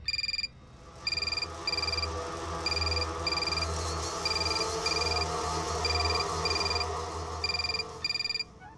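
A telephone rings indoors in a TV drama scene, its bright electronic trill repeating in regular bursts about once a second over a low hum, loud and alone with no voices.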